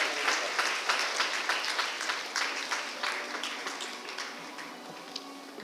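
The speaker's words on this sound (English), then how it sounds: "Shall we have a big round of applause?" A crowd at a school association silver jubilee celebration applauds, a dense burst of clapping that starts loud and gradually thins and fades over several seconds.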